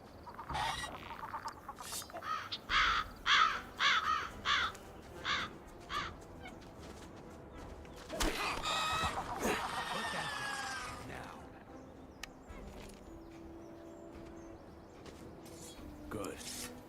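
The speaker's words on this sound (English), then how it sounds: "Damn birds." Crows in the Gothic 1 Remake game caw in a rapid burst of repeated harsh calls, then a longer raucous flurry of squawks, mixed with other game sounds and a voice talking.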